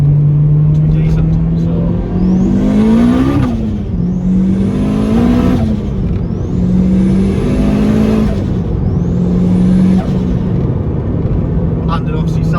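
A turbocharged Honda Civic EP3 with a log exhaust manifold accelerates hard along a road, its engine note climbing through several gears with a rising turbo whine and whooshes at each shift, loud and close.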